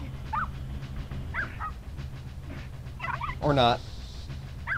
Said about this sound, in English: I'll distract the dog so you can get away.